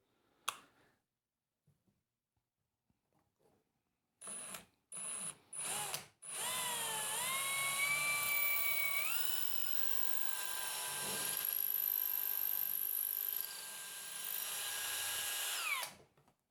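A power drill bores through a wooden dresser drawer front, starting with a few short bursts and then settling into a sustained, close, loud whine that shifts in pitch before cutting off abruptly.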